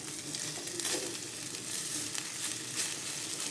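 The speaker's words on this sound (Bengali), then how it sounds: "চালটাকেও ভালো করে ঘিয়ের সাথে ভেজে নিতে হবে। গ্যাসের ফ্লেমটাকে মিডিয়ামে করে দিলাম।" Rice frying in ghee in a pan over a medium gas flame, giving a steady, close, even sizzle with soft crackles and a few stirring scrapes throughout, no voices.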